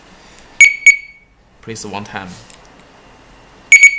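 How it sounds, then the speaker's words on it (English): Two-way car alarm system learning a remote: the unit chirps sharply twice, goes quiet while someone speaks, then chirps twice again. "When you hear beep sound, remove your hand immediately."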